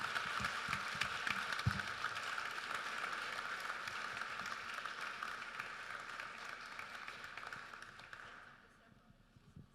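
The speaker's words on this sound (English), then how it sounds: "a round of applause, please, for our excellent" An audience at a breakfast panel discussion during London International Shipping Week gives a sustained round of applause, a moderately faint, steady patter that tapers off near the end, with some voice mixed in.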